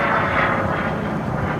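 Aero L-29 Delfin jet aircraft flying at an airshow, a loud continuous engine roar and broad rushing whoosh holding steady throughout with no voices.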